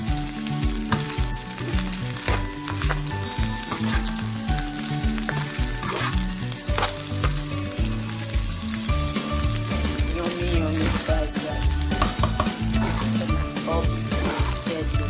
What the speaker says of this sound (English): About frying the rice.